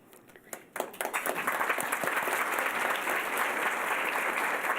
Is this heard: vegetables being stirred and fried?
no